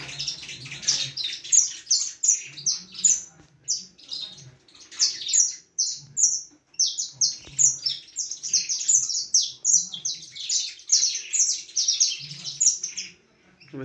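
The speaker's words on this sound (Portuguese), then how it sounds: "o mutante só vai dar canto na cara dele" Caged canaries in a breeding room sing in dense, overlapping bursts of bright trills and chirps, several birds going at once with almost no pause, fairly close and loud.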